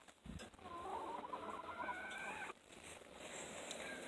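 Chickens cluck steadily inside their pen, with a busy stretch of close, overlapping clucks and a brief sharp knock early on, and no one talking.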